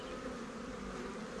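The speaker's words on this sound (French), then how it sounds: "les abeilles de Cyril sont plutôt tranquilles, se laissent aller peinard" Honeybees swarm at an open hive in a garden apiary, giving a dense, continuous close-up buzz that stays steady and fairly faint, with no talking.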